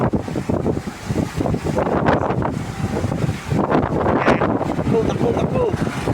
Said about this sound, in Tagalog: Ito ang hangin o.